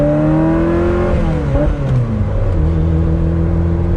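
A cold Ferrari 348ts engine revs up loud and close, its pitch climbing, then dipping through an unhurried shift from first to third before the engine pulls again.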